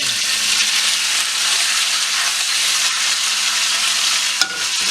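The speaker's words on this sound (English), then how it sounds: "we're gonna brown the meat off, season it up" Beef for stroganoff browning in a hot pan, a loud, dense, continuous sizzle held steady from start to finish, with one brief clack near the end and no speech.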